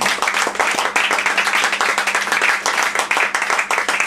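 A crowd claps loudly and steadily for Pierre Meige, a dense, even roar of many hands with no break, close and full throughout.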